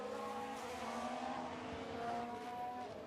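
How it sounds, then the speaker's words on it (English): Race car engine drone from F1 Manager 22 as Sebastian Vettel's car spins out, a steady loud engine tone with faint tyre skidding blended in, continuous throughout with no talk. "Sebastian Vettel spun the car."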